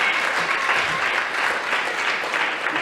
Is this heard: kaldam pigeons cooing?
no